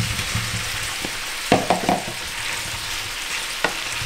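Bacon, garlic and precooked potatoes fry in a pan for a simple home-cooked dish, giving a steady close sizzle with a few sharp stirring knocks and clatters and no talk.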